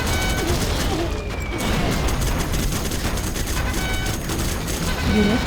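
Sustained minigun fire from Command & Conquer Generals Zero Hour, a dense continuous rattle of rapid shots with booming impacts throughout, loud and unbroken with battle noise layered in.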